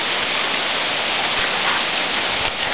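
Rain falling steadily by a front porch, an even broadband rush of drops holding level throughout, close and fairly loud.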